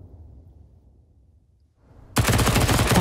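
Rifle gunfire in Counter-Strike 2 at a pro match: after a quiet, muffled lull, a loud, dense burst of rapid shots bursts in and carries on to the end.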